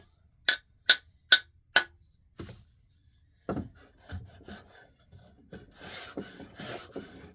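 Four crisp, evenly spaced rasping strokes of a miter plane shaving wood, followed by a quieter stretch of scraping, shuffling handling noise.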